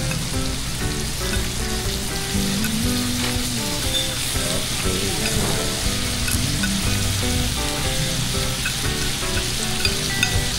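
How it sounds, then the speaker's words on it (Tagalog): Food sizzles loudly in a pan as it is stirred, with continuous frying crackle and occasional scraping, and faint background noise underneath. "Haluin muna natin"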